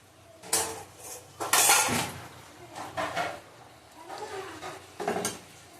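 Pointed gourds tossed into a pan of hot oil for Bengali potol tel jhal, a series of loud clattering knocks and scrapes of utensil on metal, irregular and close.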